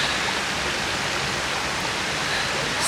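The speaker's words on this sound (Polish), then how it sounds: "Mamy czwarty wodospad." A waterfall on the Four Falls Trail in the Brecon Beacons roars in a dense, constant broadband rush, loud and close with no gaps.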